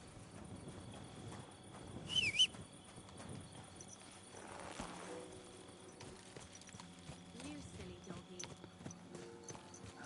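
Horse hooves clip-clop in the medieval video game Kingdom Come Deliverance 2, a soft, fairly quiet plodding rhythm amid game ambience, with a brief louder burst early on.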